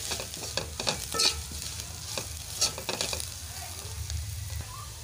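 Ginger garlic paste and onions sizzle in hot oil for a spicy sardine curry, a soft continuous frying hiss with clinks and scrapes of stirring, fairly quiet and close.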